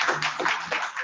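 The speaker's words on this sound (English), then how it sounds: "Big round of applause for Madam" Audience applause for a minister at a formal launch event: dense, steady clapping from many hands fills the moment without a break, fairly loud and close.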